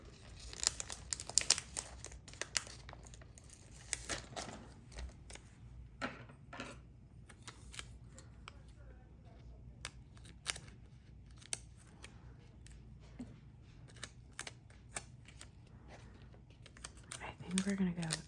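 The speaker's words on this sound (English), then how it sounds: "I'm gonna take these circular ones and we're gonna cut those in half." Scissors snip through paper circles in a craft journal spread, with a run of close, crisp cuts and paper rustling and crinkling between them, light and intermittent over a quiet room.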